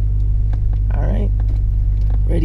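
A BMW E34 530i pulls away in first gear, its engine a steady, close low rumble that holds throughout, with faint voices murmuring over it.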